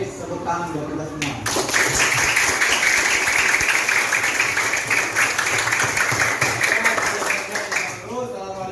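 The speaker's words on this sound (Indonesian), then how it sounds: "tepuk tangan buat kita semua." A classroom group breaks into applause after a lesson, a dense burst of hand clapping that swells after a brief lead-in of voices and holds loud and steady before tapering off near the end.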